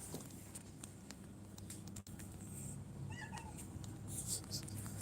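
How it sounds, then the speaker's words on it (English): A cat meows briefly a couple of times, moderately near, over a steady low room hum with soft background noise and a faint voice in the background. "My cat was trying to escape into the garden."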